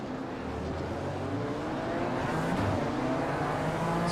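A BMW M4 GT4 race car engine in the iRacing video game at Spa-Francorchamps, a steady loud drone with slowly rising and shifting pitch as it accelerates, continuous and without speech.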